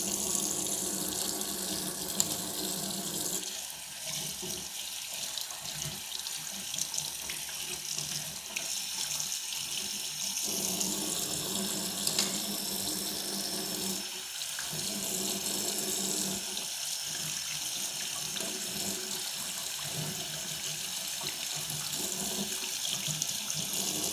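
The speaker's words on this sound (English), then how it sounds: "And now just running through the water." Running tap water pours steadily over a washable baby hair clipper blade, a continuous close splashing hiss with small shifts as the blade moves through the stream.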